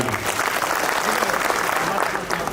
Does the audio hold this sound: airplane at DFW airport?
no